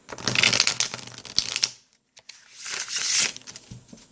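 A deck of playing cards is riffle-shuffled up close, two quick ruffling bursts of flicking card edges separated by a short quiet gap, fairly soft and with no talking.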